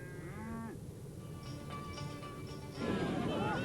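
A cow moos a couple of times at moderate distance in Mongolia, low drawn-out calls over a steady outdoor background.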